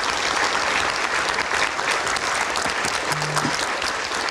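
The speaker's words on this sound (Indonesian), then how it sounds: "Baik, kita berikan tepuk tangan." Sustained applause from a studio audience at an Indonesian political talk show, a dense steady clatter of many hands that holds loud and even throughout.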